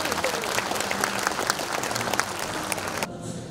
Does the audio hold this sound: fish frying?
no